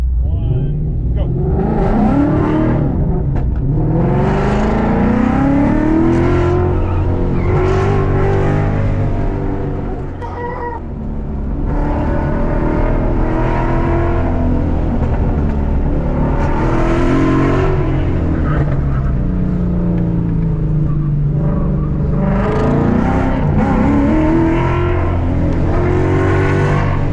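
Car on an SCCA autocross run, engine loud and close as it repeatedly revs up hard through the gears and eases off into turns, with one brief lift mid-run, continuous throughout.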